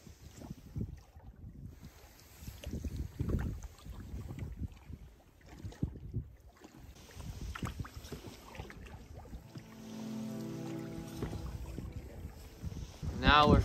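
Canoe paddled across a Scottish loch in strong, rising wind, with steady water and wind noise throughout and a low rumbling stretch near the end; people talk over it at times.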